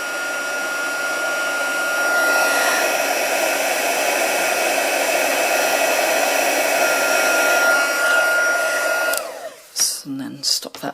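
A hot-air heat tool blows steadily while melting embossing powder for a Stampin' Up! stamping craft, a loud continuous whooshing hiss that runs for about nine seconds before cutting off, followed by a few scattered handling knocks.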